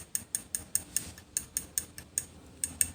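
A whisk beats eggs, coconut milk and sugar for Thai pumpkin custard, clicking against the bowl in a quick, steady rhythm of light, sharp taps.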